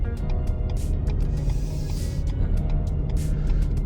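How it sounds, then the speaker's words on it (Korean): Combustion engine of a Renault XM3 E-Tech hybrid hums as a low, steady rumble while the car is driven, faint and muffled from inside the cabin, with soft clicks over it. "지금 보시면 내연기관 들어오는 사운드 음이 좀 들리시죠?"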